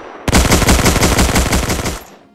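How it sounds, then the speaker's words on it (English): A BAR automatic rifle firing in the World War II shooter game Hell Let Loose: one loud, close burst of about a dozen rapid, evenly spaced shots, ending in a short fading echo. "I really love the BAR. It's a really nice gun in this game."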